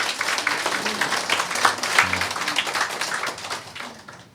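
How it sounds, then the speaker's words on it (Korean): Church congregation clapping to welcome first-time visitors, a moderately loud, busy wash of many hands with a few louder claps, tapering off at the end. "우리 뜨거운 박수로 환영하겠습니다."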